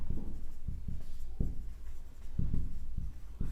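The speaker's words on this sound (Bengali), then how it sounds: "তো লিখে দিচ্ছি।" A pen scratches on paper during a math lesson, with soft repeated low strokes and taps in an uneven rhythm, close and quiet, with no voices.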